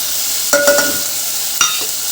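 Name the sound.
stirring spices in a frying pan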